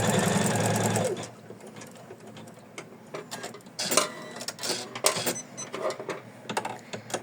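A sewing machine runs fast for about a second, then stops, followed by scattered clicks and short bursts of stitching as a lace ruffle is lifted, positioned and attached under the presser foot.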